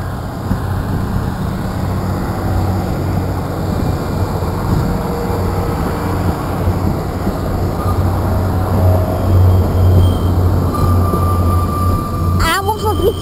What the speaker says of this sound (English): both trains are departing